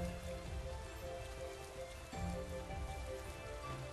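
Steady rain falling in Pokémon Sword's snowy Crown Tundra area, a dense continuous patter throughout with faint tonal game music layered underneath and no talking.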